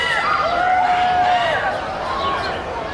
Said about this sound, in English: The crowd surge on the street to watch the car leave